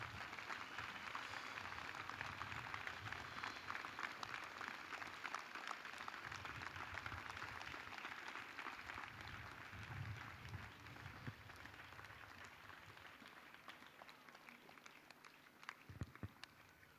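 A church congregation claps and cheers in a steady, dense wash of applause that stays fairly distant and subdued, thinning slightly toward the end.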